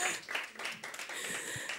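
Audience applause at a literary evening in Amsterdam, a steady patter of clapping from a seated crowd that fills the short moment evenly without pause.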